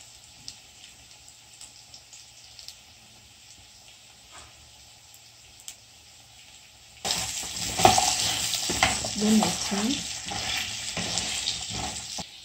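A quiet, faint background gives way to spices being stirred and fried for Nduma stew, with sudden loud sizzling and spattering plus scraping turns of the spoon continuing to the end.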